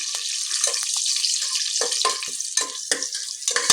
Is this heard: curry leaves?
yes